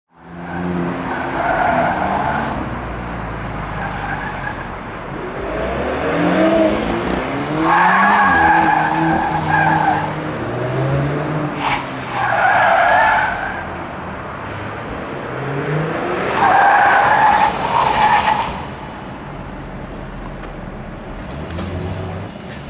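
A powerful car laps the Vancouver Island Motorsport Circuit during a trackday, its engine rising and falling through corners with repeated loud tire squeals and skids in bursts, fairly close, with no talk.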